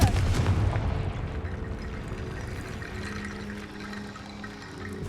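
A Confringo fire spell detonating in Hogwarts Legacy, a loud booming blast at the start that rolls into a dense crackling, rumbling wash and slowly tapers off.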